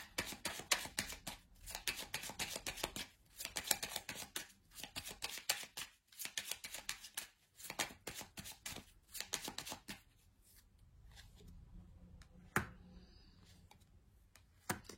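Lenormand cards are handled, shuffled and laid out in a quick run of soft riffles, snaps and taps, busy at first, then thinning to scattered slaps and a sharp single card click near the end, close and moderately quiet.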